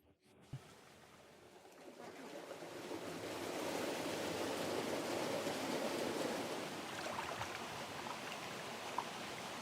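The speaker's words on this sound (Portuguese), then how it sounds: "A água vem de uma fonte no topo da montanha e chega a esta pequena bacia." Spring water from a mountaintop source pours steadily into a small irrigation basin in Cape Verde, a continuous rushing wash that swells after a brief quiet start and holds at a moderate, close level with no talk.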